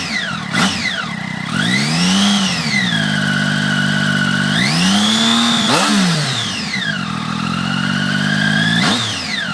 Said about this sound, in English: let you listen to it rev for a sec